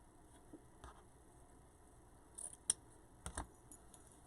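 Scissors snip beading wire during pearl bunny bead crafting, a few small quiet clicks and cuts, with the sharpest snips near the end, in an otherwise hushed room.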